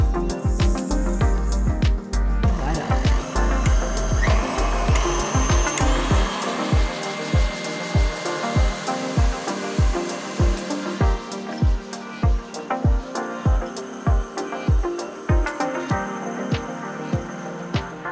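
An electric mixer whirs as it beats eggs with sugar, a steady motor drone with regular rhythmic knocks of the beaters against the bowl. The sound runs continuously for a long stretch.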